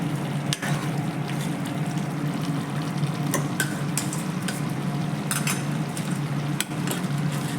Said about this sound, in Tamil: கிரேவியோட ஒரு 5 நிமிஷம் இதில் போட்டு வதக்கி எடுத்துருவோம்